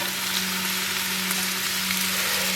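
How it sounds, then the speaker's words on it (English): Steady, dense sizzling of onions frying in a hot pan, continuous and fairly loud with a constant low hum underneath. "Oh yeah, you should hear that sizzle."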